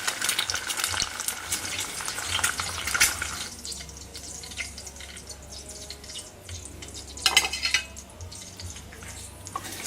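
Eggs sizzle in a home pan for breakfast, a steady close frying hiss with faint clinks and a brief burst of running water partway through, no voices.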